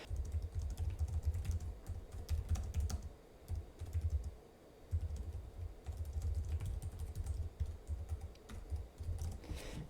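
Rapid, irregular clicking of laptop keys being typed on close by, in quick bursts with a brief pause partway through.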